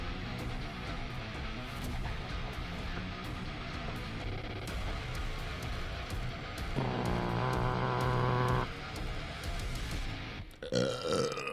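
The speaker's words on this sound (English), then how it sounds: "Oh, it's a burp." A long, loud, deep burp rises out of background hum and runs for about two seconds before trailing off.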